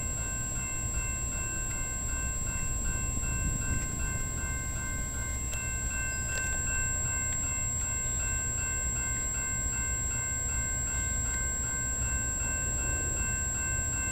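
A VIA Rail passenger train with engine 905 and four coaches departs London station, a steady low rumble heard from a distance with faint ringing tones over it.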